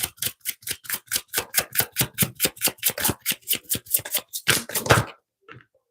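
Tarot cards being shuffled by hand, a quick, even run of close, crisp riffling slaps that speeds into a dense flurry before stopping.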